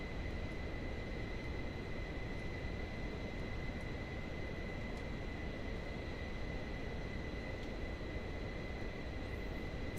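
Aircraft in flight in Microsoft Flight Simulator 2024, a steady broadband engine and air rumble with constant high tonal hums and faint clicks, unchanging throughout with no voices.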